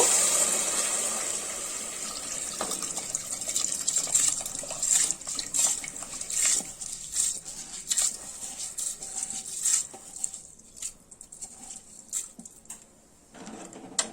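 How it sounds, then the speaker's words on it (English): Soaked jeera samba rice tips into a cooking pot with wet pattering and soft splashing, a steady close run of grainy, watery rustles that thins out toward the end. "Now I'll be adding the rice to it, the soaked rice."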